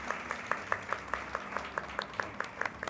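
Applause for a synthesizer player introduced at a live music concert: a steady, evenly paced run of distinct claps, moderately close and repeating regularly under a faint room hum.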